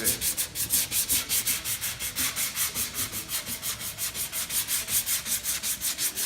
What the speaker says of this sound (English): You got to sand this side down too, then.